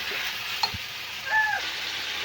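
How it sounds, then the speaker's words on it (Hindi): Achar gosht meat and masala frying in a pan, giving a steady broadband sizzle throughout with a few light clinks of stirring. "इसका पहले मैं इसे 3 से 4 मिनट तक इसको इसी तरह भूनती हूँ, ताकि इसका जो कलर है ना वो वाइट कलर का हो जाए और मसाला भी भुना जाएगा"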